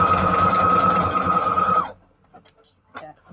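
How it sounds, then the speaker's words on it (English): A sewing machine stitching paper strips together runs loudly with a steady whirring hum for nearly two seconds, then stops abruptly, leaving quiet room sounds and faint rustling. "We're gonna sew four strips together again"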